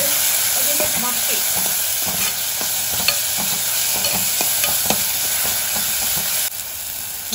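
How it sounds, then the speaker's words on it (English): Tomato and browned onion fry and get stirred in a pan for a Goan dry prawn curry, a steady sizzle with repeated scraping stir strokes throughout, close and continuous with no talk. "you can add in the tomato and fry this till it is a little bit mushy"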